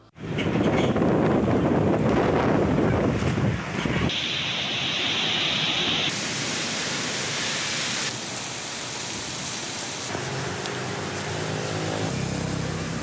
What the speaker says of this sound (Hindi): अटक में जालाबारी और तूफानी हवाओं ने दरख्तों को जड़ से उखाड़ दिया।